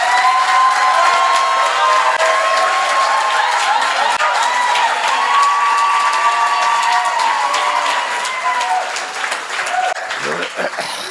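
Graduation ceremony audience at Cornerstone Institute bursts into loud, sustained applause for graduates, mixed with cheers and whoops, fading somewhat toward the end as a voice begins speaking.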